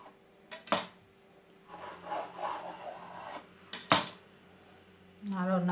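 A knife slices through layered chicken mini samosa pastry on a board, giving two sharp close cutting strokes between quieter rubbing and scraping, with a brief voice near the end.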